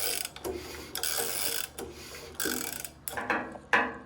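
An LT1 V8 engine turned over slowly by hand during assembly, giving a series of faint mechanical clicks and ratchet-like rubbing noises in irregular bursts, close up with no talking.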